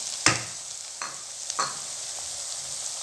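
Green peas hit a pan of oil with sautéed ginger, a soft continuous sizzle broken by a few sharp scraping knocks of a spoon near the start, close and without speech.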